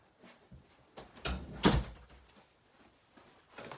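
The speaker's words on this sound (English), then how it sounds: "Let me shut that door that my dog opened real quick." A household door pulled shut indoors, one firm thud near the middle with a soft creak and rustle before it, fairly close, with faint movement noises around it and no talk.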